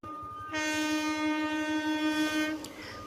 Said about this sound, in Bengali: ট্রেন থেমেছে।